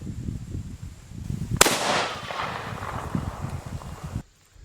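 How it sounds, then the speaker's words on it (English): A single loud .50 BMG rifle shot fired into a thick hickory board cracks sharply up close, followed by a rushing decay and rustling debris before sudden quiet. "So let me shoot this thing dead center."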